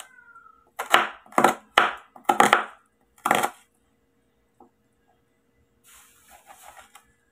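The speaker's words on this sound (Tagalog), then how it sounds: "Ito po ano lang, buhain lang po ang sibuyas." An onion is cut, giving five sharp, close slicing and chopping strokes in a quick burst, then faint light rustles after a pause.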